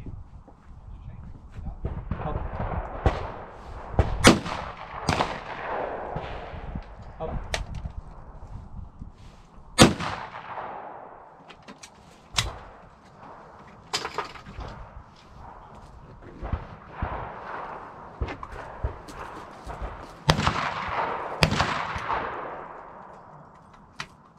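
Gunshots ring out at shooting practice, a long irregular series of sharp, loud reports, some close together and others spaced seconds apart, with people talking in between.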